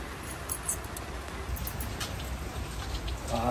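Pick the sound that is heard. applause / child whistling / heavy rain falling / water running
heavy rain falling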